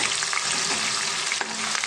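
Onion paste frying in a pan with green chillies and curry leaves for a spicy fish curry, a steady close sizzle with soft scraping stirs, no voices.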